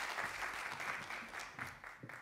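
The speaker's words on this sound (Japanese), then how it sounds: "大きな拍手をお願いします。" An audience at a podcast awards ceremony gives steady applause for the winners, a continuous soft wash of clapping heard from a distance at moderate level.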